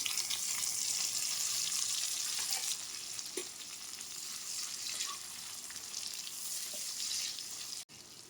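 Ginger, garlic, chili and chopped tomato fry in a pan with a steady, dense sizzle that fills the whole stretch, a few faint clinks and stirring touches under it, ending in a brief cut near the close. No one speaks.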